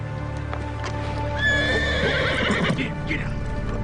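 A horse gives a loud, rising and falling whinny up close while hooves clop irregularly, with some faint voices in the background.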